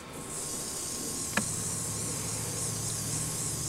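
A steady hiss of spray onto a shoe runs unbroken throughout, close by, with a single small click partway through.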